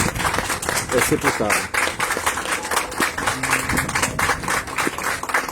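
Mourners applaud at the burial of radio broadcaster Ivan Bulhões, with steady, dense clapping from the crowd continuing under a man's speech.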